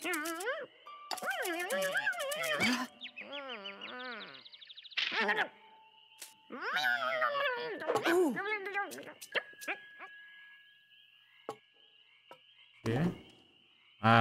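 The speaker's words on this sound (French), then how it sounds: "Oh, les grenouilles." Cartoonish frogs croak in the Lost in Play video game, a series of springy, warbling calls in uneven bursts with chimes and game effects between, fairly loud and close.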